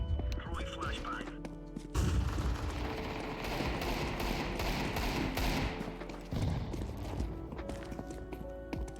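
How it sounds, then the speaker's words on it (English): A flashbang grenade goes off in a video game shooter, with a sudden loud burst about two seconds in that turns into several seconds of dense, noisy roar over steady game tones before settling back. "Throwing flashbang."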